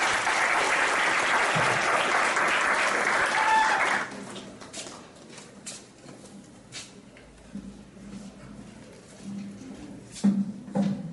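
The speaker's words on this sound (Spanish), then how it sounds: "Recibamos un aplauso al doctor Eduardo Carrillo." Audience applause welcomes Dr. Eduardo Carrillo to the podium at a geopolitics seminar, a dense steady clapping that runs for about four seconds and then stops abruptly, leaving quiet room noise and faint shuffling.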